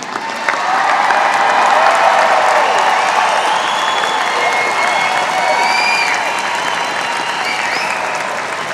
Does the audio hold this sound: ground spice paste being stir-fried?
no